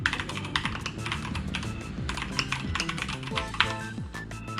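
Keystrokes rattle steadily on a Keychron K2 mechanical keyboard fitted with brown switches, a dense, close run of clicky taps with no voices over them.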